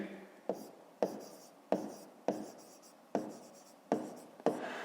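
Pen writing on paper during a fifth-grade math exercise, close and soft, with short scratchy strokes separated by sharp taps roughly every half second in a quiet room.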